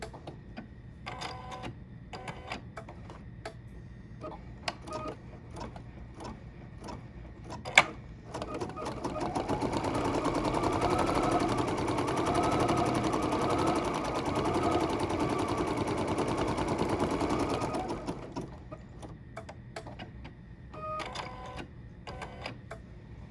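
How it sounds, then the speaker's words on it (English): An embroidery machine runs a placement stitch on halter top fabric, a rapid steady mechanical whirring and clatter that starts after some quiet handling clicks and stops after about nine seconds. "we're going to be stitching the placement stitch for our halter top fabric"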